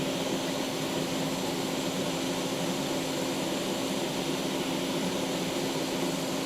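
A hot air gun with a narrow nozzle, set to 440 heat and 120 airflow, blows a steady, unbroken roar close up while reworking a Nintendo Switch circuit board.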